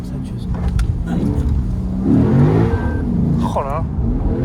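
A Lexus RC F engine revs loudly inside the cabin, the deep drone rising and swelling midway, while voices talk over it.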